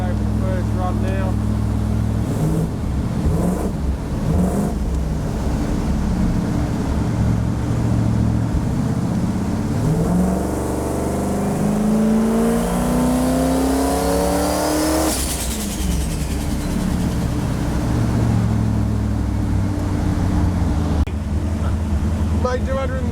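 A V8 Toyota Supra with a GT47 turbo revs hard on a dyno, engine note climbing steadily through a long pull to a peak before dropping back to a loud rumbling idle, with voices talking over it.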